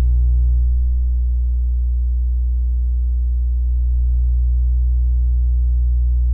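A sine wave waveshaped by an extended ADSR on a Serge modular synthesizer, a steady low, buzzy drone rich in harmonics that dips slightly in brightness midway, loud and alone.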